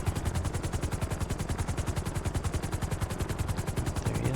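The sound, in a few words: helicopter in the video game GTA V (FiveM)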